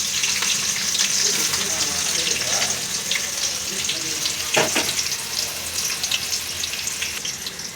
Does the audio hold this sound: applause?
no